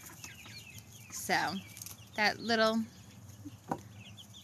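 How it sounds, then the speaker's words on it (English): A pet duck named Miss Karma quacks in a few short, hoarse bursts, fairly close but soft, with a brief spoken remark alongside and quiet background noise. "that is Miss Karma, and she does a lot of quacking now. You can hear her little voice."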